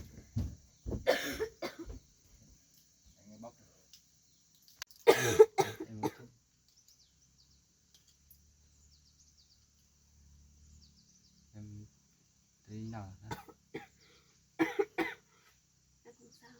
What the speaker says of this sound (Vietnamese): ho ra máu à?